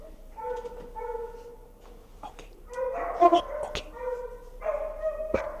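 A dog named Rocky barks, whimpers and yips in short bursts close by, while a person speaks softly and reassuringly over the sounds.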